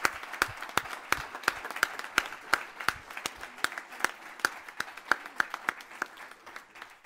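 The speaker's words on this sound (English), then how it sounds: "Let's give his memory a big round of applause" An audience at a City Club Hall of Fame induction claps for an honoree, a steady patter of sharp individual claps from a modest crowd, fairly close and sustained throughout.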